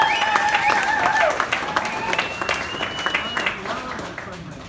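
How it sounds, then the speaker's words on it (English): Audience applause breaks out at a First Descents charity gala in Boston, steady clapping from a crowd that fades gradually while a voice talks over it. "Can we actually get another round of applause for the First Ascents 2019 Outliving It Award recipient, for Toads?"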